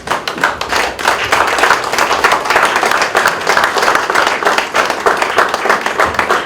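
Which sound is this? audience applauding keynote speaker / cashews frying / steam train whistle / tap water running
audience applauding keynote speaker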